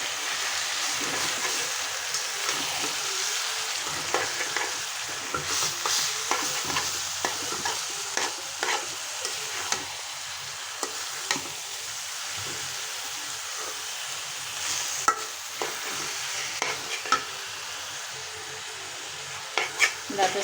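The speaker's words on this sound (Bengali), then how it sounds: "এই যে রান্না করতেছি, শুকনো মরিচ, রসুন আর পেঁয়াজ ভাজে নিলাম। এখন সিদ্ধ করা ডাঁটা শাক দিয়ে দিলাম।" Stir-frying boiled stem amaranth greens in oil with dried chili, garlic and onion: a steady, loud sizzle with repeated scraping stirs and clinks of a spatula against the pan, close up and without talk.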